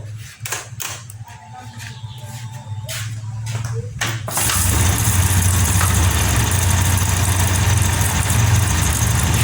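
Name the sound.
Honda Scoopy 2022 scooter engine starting and idling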